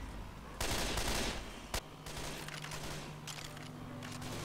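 Gunfire in the zombie shooter Left 4 Dead 2: a dense rattling burst of rapid shots, then a single sharp crack and scattered lighter shots over a low game rumble.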